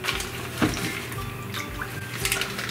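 Oysters being washed under running water in a colander in a home kitchen, a steady close stream of splashing and trickling with a few clatters.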